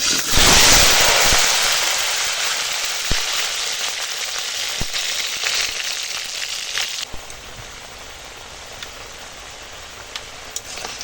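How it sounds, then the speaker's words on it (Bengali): New potatoes with skins hit hot oil with a loud burst of sizzling that settles into a steady, softer frying crackle; no voices. "এখানে তেল গরম হয়ে গেছে আর এই আলুটা দিয়ে দিলাম"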